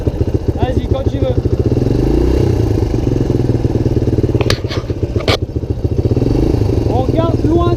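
A motocross motorcycle engine revs close by, a rough pulsing drone that rises and falls with the throttle. A person talks over it, and a couple of sharp clattering knocks cut in midway.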